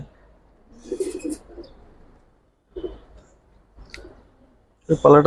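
Racing pigeons at a loft give soft, low cooing bursts in short separated clusters with scattered clicks, fairly close, while a voice talks nearby and louder speech comes in at the end.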